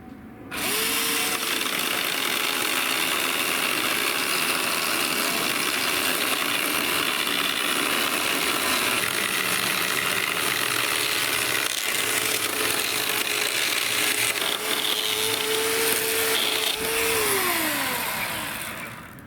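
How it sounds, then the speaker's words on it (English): A Ryobi 18V 12-inch battery chainsaw whines steadily as it cuts through timber, a continuous buzzing motor drone that holds for most of the clip before winding down. "This chainsaw is not an industrial-grade model, so you won't get a speedy cut"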